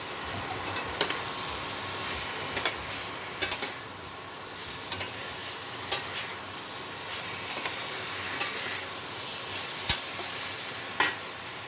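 Boiled jackfruit and fried potato are stir-fried with spices in a pan, with regular spoon scrapes and clinks every second or so over a faint continuous sizzle.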